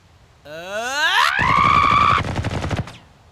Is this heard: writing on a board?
no